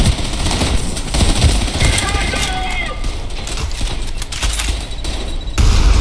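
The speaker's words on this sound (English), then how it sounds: "Am I at least wearing earplugs while I shoot this shotgun?" Shotgun gunfire in the video game Trepang 2, loud blasts and rapid bursts over game noise with mechanical clatter, and a voice talking between the shots.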